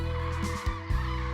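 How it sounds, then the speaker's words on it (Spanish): Common cranes trumpet over rice fields in Extremadura, a few loud, near honking calls rising over a steady drone, with no other sound competing. "siluetas de aves arropadas por sonoros trompeteos irán llegando poco a poco a los arrozales en busca de descanso."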